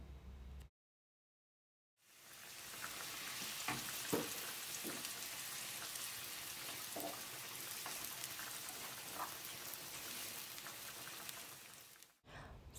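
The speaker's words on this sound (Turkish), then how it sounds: "Bir tane yemeklik doğradığım soğanı ilave ediyorum ve yaklaşık 4-5 dakika kavuruyorum." Steady loud sizzling of chopped onions frying in olive oil in a pan, with occasional small pops and crackles, no voices.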